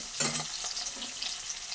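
Curry leaves crackle in hot oil for a tempering, giving a short burst of sizzling and popping that settles into a steady low fry.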